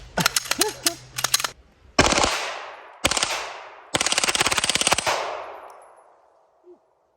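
Automatic gunfire at a shooting range as a whole magazine is emptied, loud close rapid bursts separated by short pauses, each with a long echoing tail, ending in silence.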